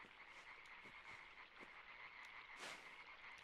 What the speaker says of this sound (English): It's kind of like half frogs, half bees or wasps.